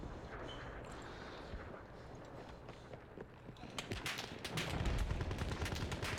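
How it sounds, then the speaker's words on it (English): Rapid bursts of gunfire crackle from all sides during a Battlefield 1 match, starting as distant scattered shots and building into dense, loud automatic fire toward the end. "All I hear is gunfire coming from every direction."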